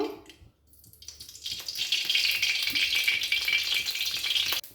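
Mughlai paratha is slid into hot oil in a kadai and begins to sizzle after a brief quiet start, building quickly into a loud, steady, crackling fry that holds close until it cuts off.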